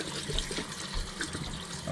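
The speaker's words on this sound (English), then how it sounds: "take it straight over to the sink. Any deposits, and rinse it through" Tap water runs into a sink as the condensate trap from a Morco GB24 boiler is rinsed under it, a close, steady splashing rush with small gurgling changes throughout.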